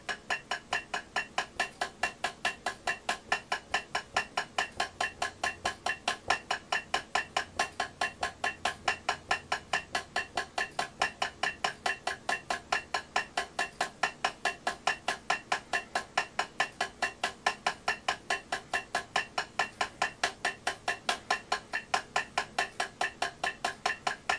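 Drum single-stroke warm-up exercise in eighth notes at 140 bpm, played softly with rebound strokes, makes an even, relentless stream of light sticking taps. The rhythm never breaks, with no voice over it.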